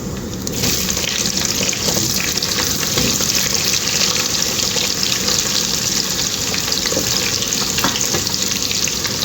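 Curry leaves and sliced onion fry in hot oil for a bitter gourd and radish stir-fry, giving a steady, dense sizzle that runs close and loud for the whole stretch, with faint stirring and no talking.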